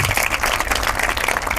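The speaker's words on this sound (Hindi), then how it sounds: "एक बार जोरदार तालियां राजेश्वरी के लिए" Loud, dense audience applause fills the whole moment, a steady roar of many hands clapping at an award announcement for top-ranked students, with no voices rising above it.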